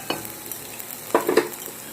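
Chopped tomato goes into a pan of onions cooking without oil, giving a soft stir and faint sizzle with a short burst of scraping near the end, close and quiet.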